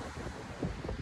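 Atlantic Ocean surf and wind on a beach at Saint Louis, Senegal: a steady, rushing roar of waves with wind buffeting the microphone, and no voices.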